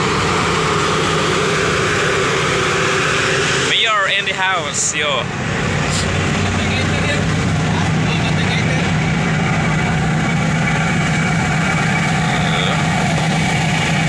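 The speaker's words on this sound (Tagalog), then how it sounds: "kung marinig nyo po ingay, maingay po yan ang makina namin" A loud boat engine drones steadily and close up, a constant rumbling roar, with a brief spoken phrase partway through.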